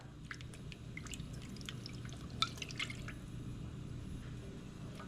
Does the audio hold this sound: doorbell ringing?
no